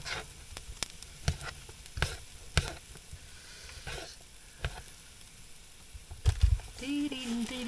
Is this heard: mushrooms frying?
yes